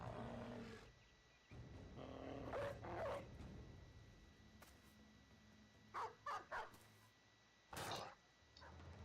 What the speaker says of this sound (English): Basically, those dogs do no damage, but they can take hits.